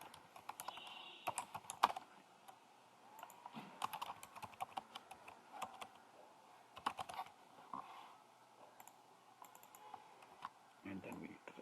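Someone types Angular code on a computer keyboard in bursts of close, crisp key clicks with short pauses between runs; a voice talks quietly over parts of the typing.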